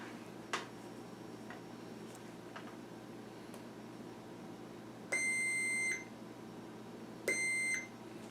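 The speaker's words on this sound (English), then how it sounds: "we're getting a continuity read on the metal" Two steady electronic continuity beeps from a multimeter, each lasting under a second, sound as the probes touch the metal of Snap-on long-head diagonal cutters, with faint ticks and clicks of probe contact in a quiet room.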